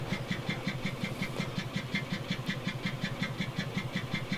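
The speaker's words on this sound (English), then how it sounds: "you can turn the engine over, and it spins up, and it sounds pretty good" Deutz OMZ 117F locomotive diesel engine in Train Simulator Classic, running with a steady, evenly pulsing mechanical beat that fills the whole stretch at moderate loudness, with no voices over it.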